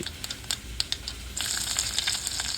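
Ghee, mustard seeds and shallots sizzle in a pan while tempering for a Kerala parippu (lentil) curry: scattered pops and crackles build into a steady, louder frying hiss partway through, close up with no talk.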